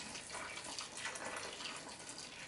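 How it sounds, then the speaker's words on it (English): Water poured into a pot of curry goat on a stove, a steady splashing gush that runs continuously for a couple of seconds with no talking. "I'm going to pour in some more water"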